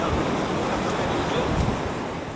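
Ocean surf breaks on a beach in a continuous loud roar, mixed with wind buffeting the microphone, with no one talking over it.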